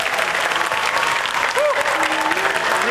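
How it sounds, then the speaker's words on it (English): An audience at a school Christmas concert with singers and an orchestra bursts into loud, dense clapping that fills the room, while a voice talks briefly over it. "One big clap, please."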